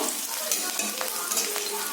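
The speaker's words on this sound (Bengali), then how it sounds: "এবার পেঁয়াজটা ভাজা হবে পেঁয়াজটা একটু ব্রাউন করে হালকা ব্রাউন করে ভেজে নেব" Steady sizzling of onions frying in a pan, a constant crackling hiss with a few small pops and stirring scrapes.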